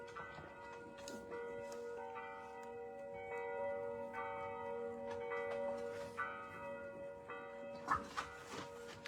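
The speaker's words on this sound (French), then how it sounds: "Ces 7 heures, elles sont longues les cloches." Church bells ring at seven o'clock, a long, continuous peal with steady sustained tones and repeated strikes throughout, heard at moderate distance with faint background sounds.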